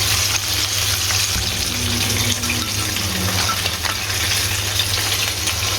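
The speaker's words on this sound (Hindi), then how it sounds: "तो जी बाकी के विंग्स भी हमारे फ्राई हो गए हैं। ये देखें ऑयल के ऊपर तैरना शुरू हो गए हैं" Chicken wings deep-fry in hot oil, a dense, constant sizzle and bubbling hiss that stays loud and even throughout, with no talking.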